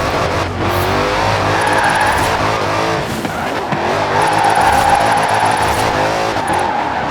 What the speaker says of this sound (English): Liven up the rear, apply a bit of acceleration, then steer, and Robert is your father's brother.